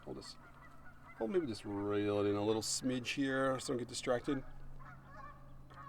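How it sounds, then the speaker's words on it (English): Canada geese honking loudly and repeatedly nearby, harsh calls overlapping while someone talks over them. "You can hear the Canada geese in the background."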